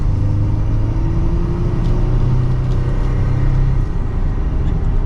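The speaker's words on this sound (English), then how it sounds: "And with another acceleration, here we go." A 2022 Chevrolet Colorado Z71 truck accelerating, a loud low engine drone heard from inside the cab, rising steadily in pitch before easing off near the end.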